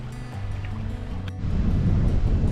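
A sailboat runs downwind at about 15 knots with the jib out, as waves rush and splash along the hull amid steady wind noise, the water surging louder partway through.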